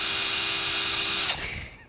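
A power drill runs with a steady high whine in a family makerspace workshop full of tools, then stops sharply and winds down.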